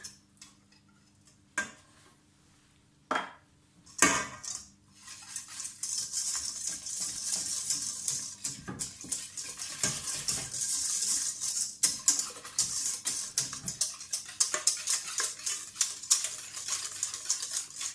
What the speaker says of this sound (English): You can just use whisk, stainless steel pot.